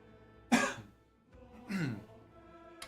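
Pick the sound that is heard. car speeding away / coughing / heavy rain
coughing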